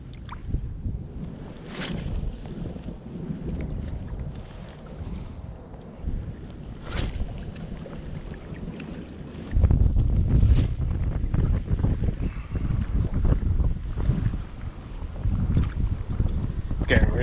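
Steady wind gusting across a lake during a spring crappie fishing outing, a broad low rushing roar with buffeting on the microphone that grows louder and harsher in the second half, with faint water lapping underneath.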